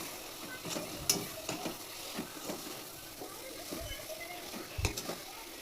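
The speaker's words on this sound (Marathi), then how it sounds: "फणस जे आहे ते टाकल्यानंतर पुन्हा याला 2 मिनिटांसाठी परतायचं आहे आपल्याला." Raw jackfruit pieces being sautéed with masala in a pan for a curry, giving a soft, low sizzle with scattered stirring scrapes and clinks throughout.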